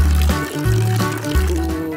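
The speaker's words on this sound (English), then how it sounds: "Let's pour the mixture into the peel bag." Juice mixture is poured into a peel bag to make jelly, giving a continuous close, loud liquid pour with gurgling and sloshing over a music bed.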